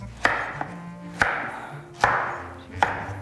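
Knife slicing celery root into thick rounds on a cutting board, four crisp, evenly spaced chops ringing out close and clear with short pauses between.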